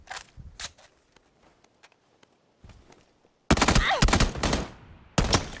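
Gunfire in the PUBG battle royale video game: a few sharp isolated shots early on, then a dense loud burst of rapid fire, a pause, and another close volley at the end.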